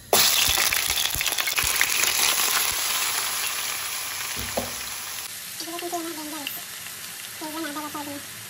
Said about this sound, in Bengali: আদা, রসুন, পেঁয়াজ দিয়ে এই যে মিক্স করে নিচ্ছি।